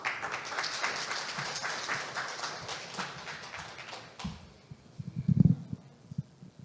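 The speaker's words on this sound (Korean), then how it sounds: "회원 여러분 큰 박수로 모시겠습니다." Audience applause welcoming a presenter at an electrical engineering society's summer conference session in Korea, a steady dense clatter for about four seconds that then thins to a few scattered claps and taps.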